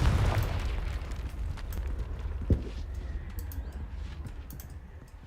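A Confringo spell explosion in the video game Hogwarts Legacy, a heavy boom at the start that rumbles and fades, followed by a sharp pop and faint scattered debris sounds.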